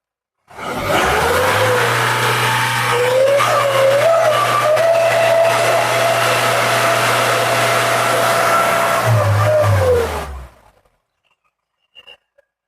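Used Mahindra Bolero pickup engine revved hard and held at high rpm for about ten seconds, its pitch climbing and wavering, loud and close, before dropping off and cutting to near silence.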